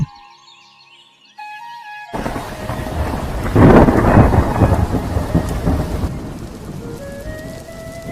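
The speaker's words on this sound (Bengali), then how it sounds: "এ মাটির গন্ধ, বৃষ্টির শব্দ" After a quiet, tonal opening, heavy rain pours down and a loud thunderclap rumbles through the middle, then the downpour settles into a steady hiss.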